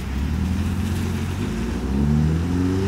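A modified BMW E36 pulls away from a car meet in the rain, its loud, close engine droning low and rising in pitch as it accelerates over a wash of wet road noise.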